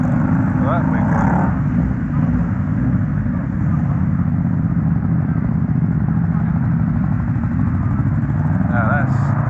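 A 1980s two-stroke motorcycle engine runs steadily and loudly throughout a group ride on Box Hill, a constant low drone with voices talking over it.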